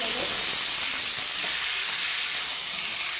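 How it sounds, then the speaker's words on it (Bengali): Potatoes frying and being stirred in hot oil in a pan, a steady dense sizzle that stays close and constant throughout the short stretch, with no voices. "আলুটা দিয়ে ভালো করে নেড়ে করে নেবে।"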